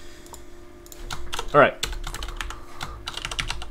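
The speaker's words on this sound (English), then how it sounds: "I'm literally just typing it out real quick." Rapid clattering keystrokes on a computer keyboard run steadily throughout, with a brief spoken remark and voices over the typing.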